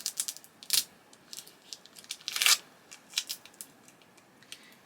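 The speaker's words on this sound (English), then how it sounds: "give it a good burnish down to make sure everything's stuck well" Transfer tape is rubbed firmly onto a vinyl sticker, giving close, dry scraping and crinkling strokes in uneven bursts, with two louder rubs among quieter ones.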